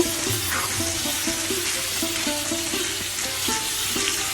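Pumpkin pieces stir-fry with turmeric in a hot pan, a steady close sizzle broken by a regular rhythm of spatula scrapes and tosses throughout.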